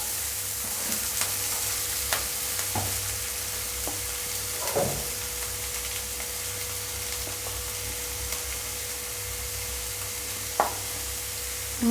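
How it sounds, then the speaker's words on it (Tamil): Chopped onions sizzle in hot oil in a pan while preparing a vegetable sandwich filling, a steady frying hiss with occasional clinks and scrapes from stirring throughout. "வெங்காயம், நறுக்கி வச்ச வெங்காயம் ஃபஸ்ட்டு சேர்த்துக்கலாம்."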